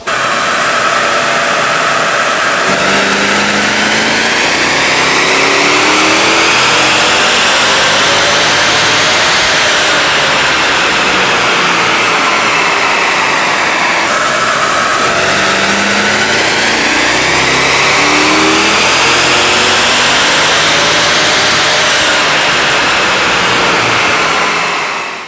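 A 6.2-liter AMG M156 V8 engine revs loudly and continuously on a dyno, pitch sweeping up and down in long pulls, the drone climbing steadily before dropping back.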